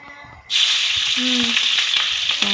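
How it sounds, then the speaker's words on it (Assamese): Green chilies drop into hot oil and burst into a loud, bright sizzle that starts suddenly and keeps hissing steadily, with a few faint tonal clinks beneath. "তাত কেঁচা জলকীয়া দিছে তেলত"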